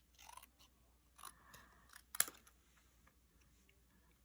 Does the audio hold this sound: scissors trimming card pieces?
yes